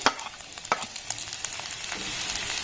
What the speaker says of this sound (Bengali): আবার সমস্ত উপকরণ একটু ভালোভাবে নাড়াচাড়া করে ভেজে নেব